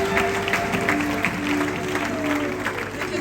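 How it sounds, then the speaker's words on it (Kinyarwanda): An audience claps for children at a church Christmas event, a steady patter of applause lasting a few seconds, fairly close with a crowd murmur underneath. "Reka dukomere abana bacu amashyi menshi cyane."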